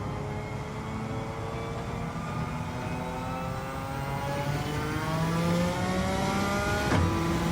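Suzuki Escudo's turbocharged engine in Gran Turismo 7 at Willow Springs Big Willow, droning steadily below 6,000 RPM with sluggish turbo lag, then building in pitch and loudness before cutting off abruptly near the end, heard alone.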